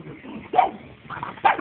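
Pugs barking nearby in two short, sharp bursts separated by a brief pause.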